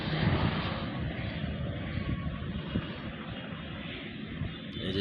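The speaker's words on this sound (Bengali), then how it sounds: "এই যে বিমান নামতেছে।" An airplane comes in to land near the runway end at Jessore air base, a steady low engine roar heard from outdoors, moderately loud and sustained throughout with no talking.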